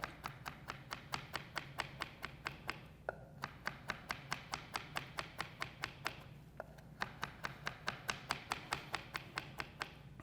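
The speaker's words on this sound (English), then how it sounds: "we'll, you know, give this a quick chop." A knife chops fresh mint and herbs on a cutting board for a strawberry and cucumber tabbouleh, giving quick, steady, close taps at about four per second with two short pauses.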